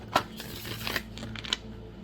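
Tarot cards being riffle shuffled, a Thoth deck, heard as a short quiet burst of soft riffling and clicking card edges followed by a few light taps.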